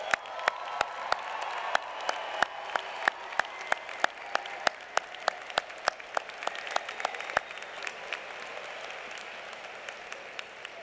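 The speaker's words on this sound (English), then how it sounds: "Let's have one more round of applause for all our graduates today" Graduation audience at a university business college commencement applauding the graduating class, sustained clapping from a large crowd with crisp individual claps popping through, steady and moderately loud for the whole stretch.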